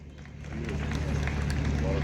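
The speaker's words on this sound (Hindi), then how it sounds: "आपकी बहुत सारी तालियों के बीच" Audience applause for a prize winner being called to the stage at Jhiri Mela, a broad, steady wash of clapping from a crowd that builds and holds over a low background hum.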